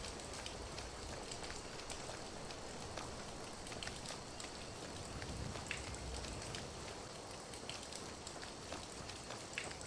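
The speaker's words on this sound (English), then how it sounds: "Well, at least it's warm rain down here." Warm rain falling in a video game setting, a soft, steady patter of drops on surfaces with faint scattered ticks, continuous and fairly quiet.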